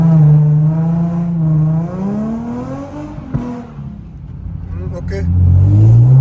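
A Nissan 350Z accelerates on a mountain road, its engine note rising and falling in a steady, prominent drone while people talk over it inside the car.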